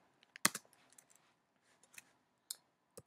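Sparse keystrokes on a computer keyboard while entering code on a Mac, a few quiet scattered clicks and taps with short gaps between them, heard close up and alone.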